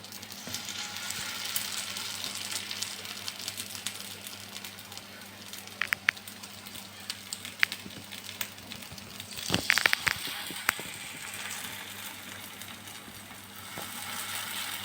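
Mutton fat fritters fry in hot white oil as a steady, fairly quiet sizzle, with scattered sharp pops and crackles throughout.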